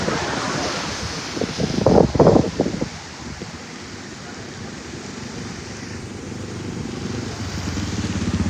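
Floodwater from Hurricane Kay rushing through a residential neighborhood in Mexicali, a continuous broad roar of moving water with a louder burst of splashing near the start, close and steady throughout.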